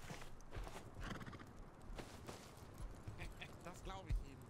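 A video game horse whinnies and its hooves clip-clop against a busy game soundscape, with a sharp neigh rising near the end and speech-like sounds mixed in.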